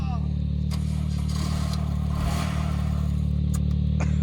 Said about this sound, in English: Rev her up.